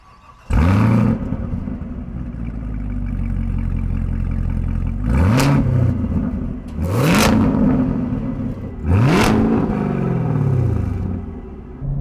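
A 2020 Chevrolet Camaro ZL1 1LE on track, its engine roaring loud and close, rising through several hard revving pulls with brief drops between, the deep growl filling the whole stretch.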